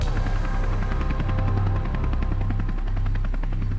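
A police helicopter drones steadily overhead, its rotor thumping in a loud, continuous rhythmic chop throughout.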